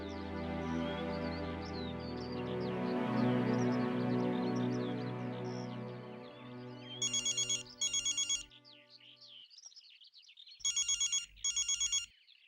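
A telephone rings in a farmhouse on a drama set, two short bursts of electronic ringing, a pause, then two more, heard after fading music and ending in near silence.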